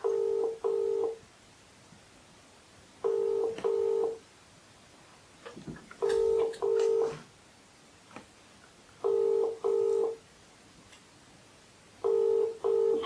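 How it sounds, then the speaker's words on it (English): A phone call sounds over speakerphone as a repeating ring tone, evenly spaced double bursts over about thirteen seconds. The tones are moderately loud against faint background noise, and a soft sound of handling is heard partway through. "So I'm just going to give them a call now, and I will put them on speaker so you can hear everything."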